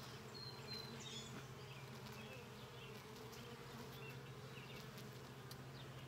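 Honey bees buzz steadily during a hive inspection, a dense, even drone that fills the whole stretch at low level, with occasional single bees passing close.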